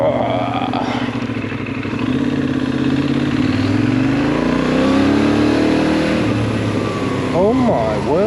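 Benelli 752S motorcycle on a test ride, its engine revving up and down through rising and falling pitch sweeps, loud and close, with wind noise throughout and a brief change of pitch near the end.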